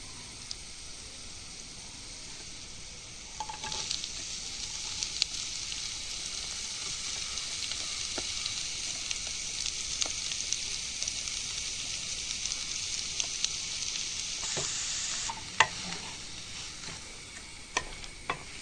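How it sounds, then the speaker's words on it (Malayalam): Sliced onions sauté in a pan for a chicken dish, a soft steady sizzle that rises after a few seconds, with occasional faint ticks and clicks from stirring. "ഉള്ളി ഒന്ന് പെട്ടെന്നൊന്ന് വഴറ്റി കിട്ടും"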